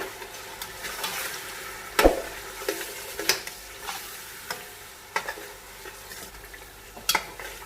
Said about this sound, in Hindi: भूनेंगे अभी अच्छी तरह